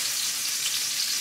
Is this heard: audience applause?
no